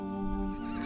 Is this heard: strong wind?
no